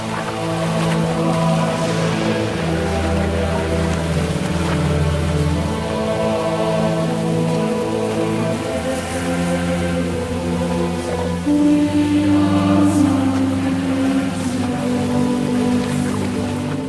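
Torrential rain falls steadily on the winter road to Jerusalem, a dense continuous hiss and patter throughout, with low tonal music underneath and no voices.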